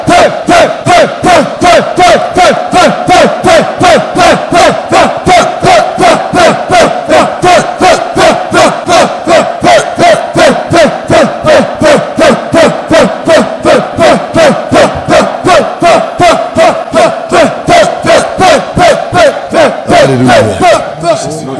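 A church congregation shouts and acclaims together in a loud, steady rhythmic chant, with one rapid beat after another repeating for about twenty seconds.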